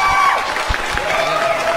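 Crowd applause and cheering at a carnival ceremony in Arequipa, with scattered claps and whoops under a steady murmur of voices and some talk nearby.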